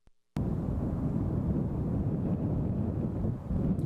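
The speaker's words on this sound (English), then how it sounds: "The wind's still gusting, but starting to die down." Strong gusting wind in the wake of a storm roars continuously across an outdoor microphone, loud and broadband, buffeting steadily for several seconds with no voices.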